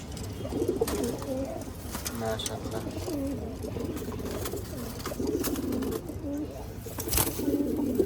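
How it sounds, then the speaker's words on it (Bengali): Two female pigeons coo repeatedly in low, throaty rolls, close by, with a person talking intermittently over them. "এই দুটো মাদি কবুতর"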